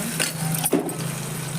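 Onion and tomato being stirred as they fry in hot oil, with a steady close sizzle and a couple of brief scraping strokes of a utensil across the pan.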